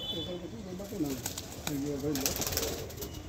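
Pigeons of the Kalsira and Fulsira breeds coo at a home loft, repeated rolling low coos rising and falling close by, with a faint steady background hiss.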